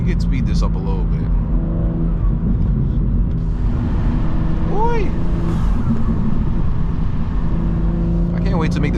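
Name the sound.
BMW M2 G87 engine accelerating while driving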